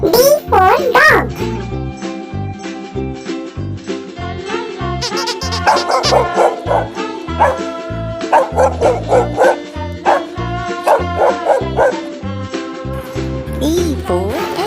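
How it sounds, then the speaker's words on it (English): A dog barking in an English alphabet phonics lesson, a steady run of sharp barks and yips mixed with a voice speaking over a backing melody. "D for dog."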